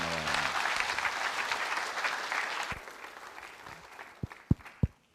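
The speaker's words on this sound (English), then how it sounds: "can we just give a round of applause again to Patricia?" Audience applause at an entrepreneurship fair talk, a broad steady wash of clapping from a crowd that fades over a few seconds, ending with a handful of last scattered claps.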